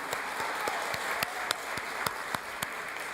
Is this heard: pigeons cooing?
no